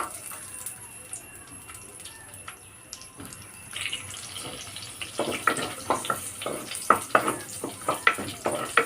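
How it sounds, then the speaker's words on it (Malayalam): Shallots sauté in a pan for a carrot and yogurt curry: quiet at first, then from midway a lively sizzle with rhythmic stirring scrapes, growing louder toward the end. "ചുവന്നുള്ളി ഒന്ന് ചെറുതായിട്ടൊന്ന് വഴറ്റെടുക്കാം"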